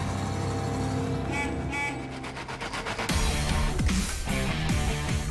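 A restored classic car is driven, its engine note rising and shifting through a few seconds and then a louder, rougher surge of revving as it pulls away, heard close with some background noise.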